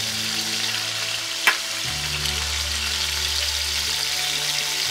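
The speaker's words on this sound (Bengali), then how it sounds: "আমি অল্প আছে চিংড়ি মাছগুলোকে একটু ভেজে নিতে যাচ্ছি" Shrimp frying in a pan with a little salt, a continuous close-up sizzle with one brief clink partway through and a low steady hum underneath.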